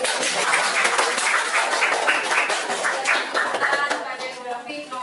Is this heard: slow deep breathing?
no